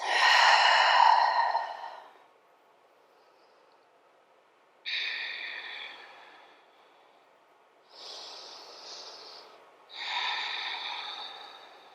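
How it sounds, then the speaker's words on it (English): Slow deep breaths during a yoga cool-down, heard close and clear: one long exhale, then three more long breaths in and out separated by quiet pauses, with no talking. "Deep breaths."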